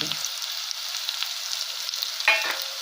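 Potato and cauliflower sizzle and crackle steadily in a hot pan, with a brief clatter of stirring near the end.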